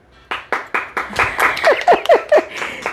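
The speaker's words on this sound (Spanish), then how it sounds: "Si quieren pueden aplaudir." About a dozen distinct hand claps from a small group in a clothing boutique, starting sparse and growing quicker and more uneven, with faint voices mixed in.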